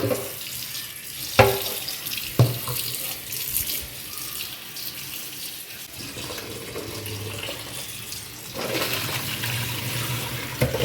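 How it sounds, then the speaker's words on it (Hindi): Leafy greens for poi saag are rinsed under running tap water, a steady splashing flow with a few sharper knocks and rustles of leaves being rubbed clean, no voices. "अब इसको धो लेंगे अच्छे पानी से"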